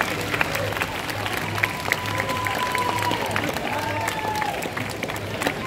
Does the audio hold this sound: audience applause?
yes